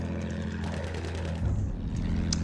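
Plane engine in a war video game, attack aircraft flying close behind, a steady droning propeller hum that shifts pitch midway as it passes, with no speech.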